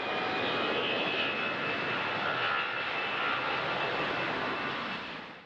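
A Boeing Dreamlifter, a cargo freighter converted from a used 747 jumbo jet, roars with its engines in a steady, loud, broadband rush with a faint thin whine on top, continuous throughout and fading slightly at the end.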